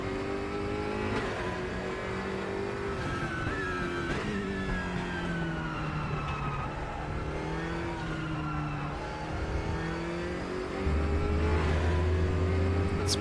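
A turbocharged DTM touring race car engine in RaceRoom holds a steady, loud drone, its pitch sliding up and down through gear changes, with a deeper low rumble coming in near the end.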